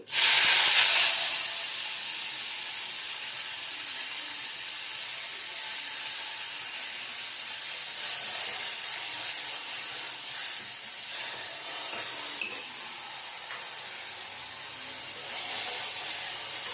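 Mint leaves fry in hot oil for a Karnataka-style donne biryani, bursting into a loud hiss at the drop that settles into a steady, bright sizzle with faint crackles running throughout.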